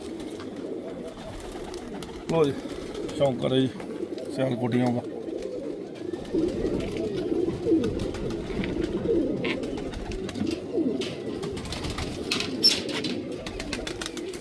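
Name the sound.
pigeons cooing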